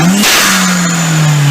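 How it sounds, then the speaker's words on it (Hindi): Turbocharged car engine revving with a continuous broadband rush of air from a pressure relief valve releasing boost, a loud steady hiss over a droning engine tone that cuts off abruptly at the end. "इस प्रेशर को रिलीज करने के लिए प्रेशर रिलीफ वाल्व को यूज करना पड़ेगा"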